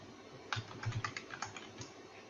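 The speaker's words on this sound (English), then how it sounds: "I type something into this cell" Someone types into a spreadsheet cell on a computer keyboard: quiet, close keystrokes in an irregular run of soft taps, with no voice.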